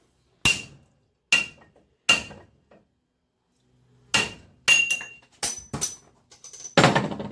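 Hammer blows on a Volvo Penta V8 bellhousing held in a vise, knocking out the bearing: about nine sharp metallic whacks, three evenly spaced, then a pause, then a quicker cluster, close and ringing.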